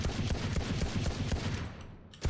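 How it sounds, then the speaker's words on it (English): Pistol shots fired as fast as possible into a wall in the game Valorant, a dense rapid burst of close, sharp cracks that stops abruptly, then one last shot after a brief gap. "let's go ahead and just take some shots here into the wall. I'm gonna shoot as fast as I can so we can see the recoil"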